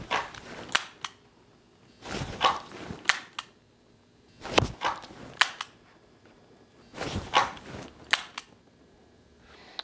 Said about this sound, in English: So a couple of draw and fire one shots.